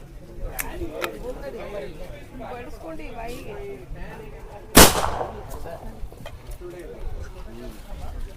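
One sharp, loud blast rings out from a homemade fire-lit gun used to scare off wild animals such as monkeys, heard outdoors amid ongoing conversation.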